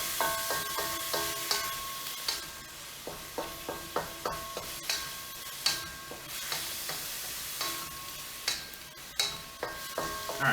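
Ground pork sizzles in a pan for mapo tofu, a steady fry hiss broken by repeated clinks and scrapes of a utensil stirring the meat at a brisk, uneven rhythm, with no talking.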